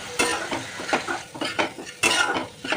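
Boiled, peeled potatoes being sautéed with turmeric and asafoetida in a pan, a spatula scraping and clinking against the metal in repeated strokes, close and fairly loud, with no talking.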